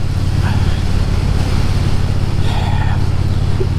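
A Triumph T120 parallel-twin motorcycle engine runs loud and close. It holds a steady, throbbing low drone for several seconds with only slight rises in pitch, and no voices are heard.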